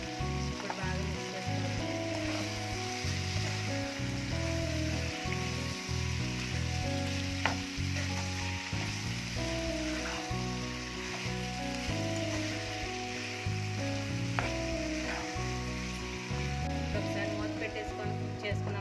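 Hariyali chicken with salt, cumin-coriander powder and garam masala crackles and sizzles steadily in a hot pan while being stirred, with a background voice running under the frying.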